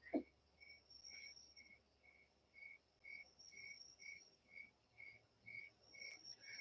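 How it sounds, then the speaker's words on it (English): Crickets chirp outdoors at night in a steady, evenly spaced pulse of high trills, faint and distant, alone without voices. "they can hear the crickets on the stream. They are very loud."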